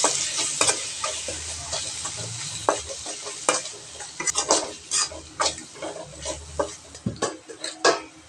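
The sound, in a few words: turmeric powder being stirred into frying curry base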